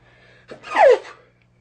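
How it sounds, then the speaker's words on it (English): A single person sneezes once up close, a quick sharp inhale building into an explosive burst that fades within a second against a quiet background. "I'm about to sneeze."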